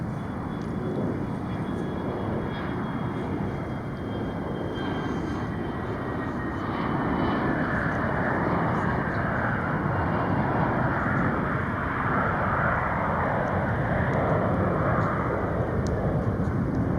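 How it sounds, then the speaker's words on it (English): A Bombardier CRJ 900 jet airliner coming in to land at an airport, its engine roar loud and sustained throughout, swelling slightly as the aircraft passes near, with no talk. "this guy is PSA 5427, coming in from Pensacola"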